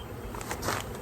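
Honey bees buzz close around a nuc hive during installation, a brief continuous drone with wingbeats flickering in and out, and no talking.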